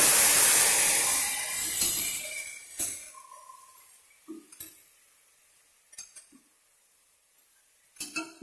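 Ginger garlic paste frying in hot oil in a pan for a chicken pepper fry, starting with a loud sizzling hiss that fades within a few seconds, followed by sparse clinks of a utensil against the pan.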